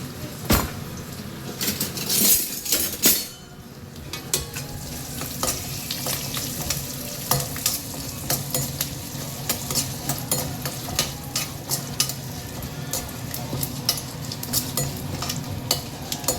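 Chana dal, urad dal and dried mor chillies fry with mustard seeds in hot oil, producing a loud, crackling sizzle with many sharp pops and repeated spoon scrapes against the pan, close up and without speech.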